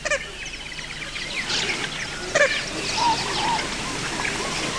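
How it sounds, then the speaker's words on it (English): Flamingos call at an alkaline Rift Valley lake in Kenya, a chorus of nasal, goose-like honks against a constant wash of background flock noise, with a few louder calls standing out near the middle. "Thousands of flamingos make the lakes on the floor of the rift their home."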